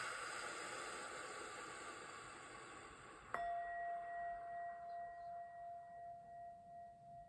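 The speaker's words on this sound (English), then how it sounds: "We'll start off with a sound bowl just to cleanse the energy and tune in" A singing bowl is struck once partway through, ringing out with a clear sustained tone and a higher overtone that slowly fade over a soft, steady background hiss.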